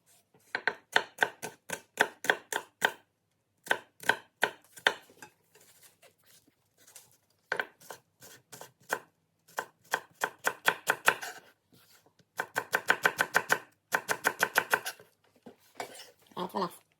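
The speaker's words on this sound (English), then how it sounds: "cut the shallot the same way you cut the onion" A knife chopping shallots on a cutting board, rapid sharp taps in quick bursts separated by short pauses, close and distinct, with no talking.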